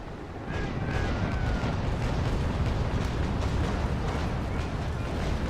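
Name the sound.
cannon broadside fire from a frigate, Naval Action Legends video game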